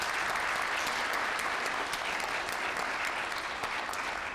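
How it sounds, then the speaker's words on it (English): Sustained applause from an audience at a children's spelling bee, dense and steady clapping filling the whole stretch without pause, with no voices standing out. "let's give them a big round of applause"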